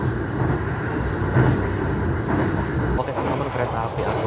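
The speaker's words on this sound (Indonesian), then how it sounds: "kereta api Argo Cirebon sekarang sudah akan melintas langsung di stasiun Cangkring" Loud, continuous rumble of the Argo Cirebon passenger train running along the tracks through Cangkring station in Indonesia, a dense roar that holds steady throughout.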